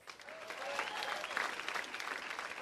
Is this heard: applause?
yes